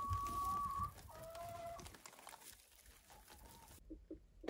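Farmyard hen clucking quietly at close range in a henhouse, a few short tonal calls early on, then fainter bursts and a sharp sound at the end.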